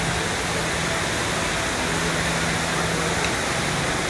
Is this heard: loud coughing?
no